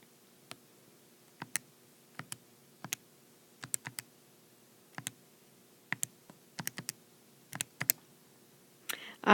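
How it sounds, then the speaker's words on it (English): Buttons pressed one at a time on a calculator while typing in a long numerator with parentheses, giving sharp, close plastic clicks in irregular bursts against a quiet background, with no talking. "So I'm just going to type the numerator in my calculator as is with all the parentheses."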